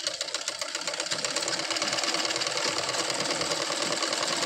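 Sewing machine stitching a readymade dress, a fast continuous mechanical whirring and clatter that builds up within the first second and then runs steadily, close and fairly quiet, with no talking.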